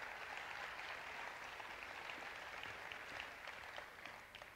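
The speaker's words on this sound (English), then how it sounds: "Please give him a very warm round of applause." An audience at the South Pacific International Song Contest gives warm, sustained applause, a soft, steady patter of many hands heard from a distance that fades a little toward the end.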